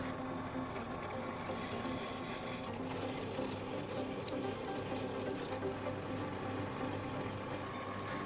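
A drill bores 6 mm and 8 mm holes into marked metal workpieces, a steady, close mechanical whirr that holds without pause throughout, with no talking.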